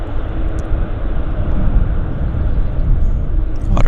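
Airliner landing at Vancouver airport with engine reverse thrust, a loud, dense, broadband roar that holds steady and swells slightly throughout, heard from a distance across open ground with no talking.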